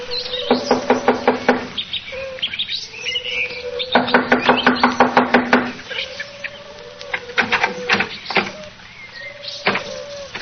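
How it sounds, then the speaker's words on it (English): Several quick bursts of sharp knocking on a door in rhythmic runs, separated by pauses, with faint chirpy tones in between. "I'll knock on the door."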